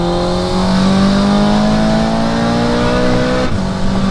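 An 800 hp VW Golf 5 GTI engine held at high revs, a loud sustained roaring drone with rising harmonic tones and a brief dip near the end, very close and without talk.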